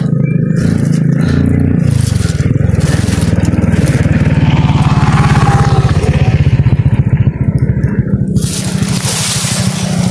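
A loud, continuous motorcycle engine drone with a rattling, buzzing rumble, revving steadily throughout with some scraping noise on top.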